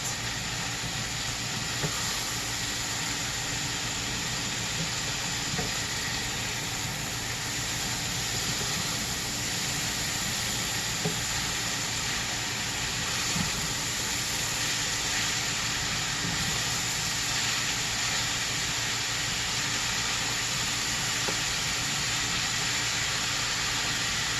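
A cabbage and egg roll bowl mixture cooks in a pan with a continuous, even hiss and sizzle, close and steady for the whole stretch with no voices.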